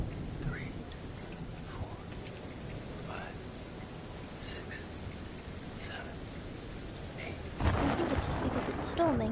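Steady rain with low, distant rumbles of thunder from a storm in the Man of Medan video game, running throughout and swelling louder near the end.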